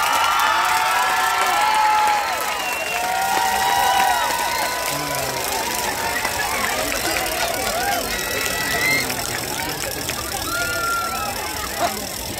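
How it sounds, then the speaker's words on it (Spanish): A crowd at a dance showcase claps and cheers steadily for young dancers, with whoops and shouts rising over the noise and a voice calling out in Spanish amid the din. "Más fuerte ese aplauso, hay que animar a nuestras pequeñas."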